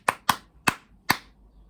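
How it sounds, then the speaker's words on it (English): Hand clapping in a quick rhythmic pattern of the kind used to get children's attention in a primary classroom: four sharp, close claps, two fast, then two more spaced slightly apart. "I can't even remember the clap"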